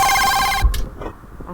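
A telephone rings in a video game, a loud electronic ringtone trilling steadily for over half a second before breaking off into quieter game sounds and faint noise.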